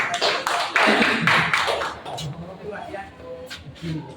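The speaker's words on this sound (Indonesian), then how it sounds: "Tepuk tangan semuanya." A class audience claps briefly, a short flurry of hand claps with some tapping, tapering off as a voice continues talking.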